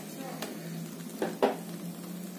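An egg dosa being flipped in a hot pan, with a soft sizzle throughout and two brief scraping, turning clatters of the spatula near the end.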